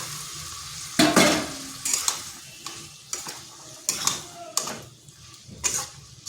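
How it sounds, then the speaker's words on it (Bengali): Fried pointed gourd (potol) tipped into a spiced pan with a little water for a vegetarian potato-and-potol curry, then stirred with repeated scraping and clinking of a spatula against the pan over a soft sizzle. "এরপর দিয়ে দিচ্ছি ভেজে রাখা পটলগুলো"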